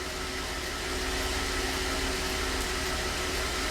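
GMC Acadia engine idling with a crankshaft sensor fault, code P0017, a steady hum with fan-like hiss, heard alone at moderate level.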